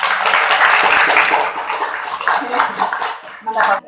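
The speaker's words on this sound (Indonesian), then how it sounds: "Tepuk tangan buat ini." A room full of people claps and applauds at a business presentation, a dense, loud wash of hand claps lasting several seconds before tapering off.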